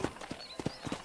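Horse hooves clip-clopping as a rider moves in Red Dead Redemption, a quick run of distinct, fairly close hoofbeats in an uneven trotting rhythm over a soft background.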